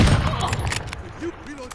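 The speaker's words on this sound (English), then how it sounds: "I'm taking fire!" Incoming gunfire in a PS4 first-person shooter hits around the player as a quick cluster of sharp shots and thuds, loud and close, fading into scattered lighter impacts within a couple of seconds.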